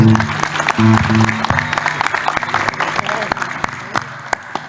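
Audience applause at an Islamic religious sermon by a preacher: dense crackling clapping runs steadily throughout, with a voice briefly audible at the start.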